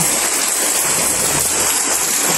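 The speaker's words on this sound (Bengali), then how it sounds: "খুব জোরে নামছে বৃষ্টি এখন" Heavy rain pours steadily onto a paved village road, a dense, continuous hiss that stays loud and even throughout.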